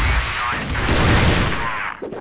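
Rapid bursts of automatic gunfire and explosions from a competitive team shooter video game match, loud and dense throughout, fading near the end.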